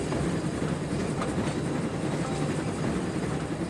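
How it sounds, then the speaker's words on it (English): Steam train on the Semmering railway, a steady, loud rolling rumble with rhythmic wheel clatter heard from on board, continuous throughout with no voices. "Riding on the locomotive is an experience because you feel the power of the steam being freed into the pistons"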